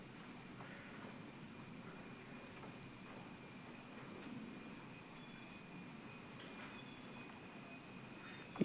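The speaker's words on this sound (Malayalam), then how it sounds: "അവിടുന്ന് നമ്മൾ നേരെ ട്രെയിൻ പിടിച്ച് കാസർഗോഡേക്ക് പോകുന്നുണ്ട് കേട്ടോ." Train ride toward Kasaragod in Kerala, heard from inside the carriage as a low, even rumble of rolling wheels with a faint high whine, quiet and continuous.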